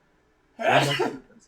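Brief speech comes just before a single loud, close human sneeze, which bursts out sharply and then trails off with a breathy tail.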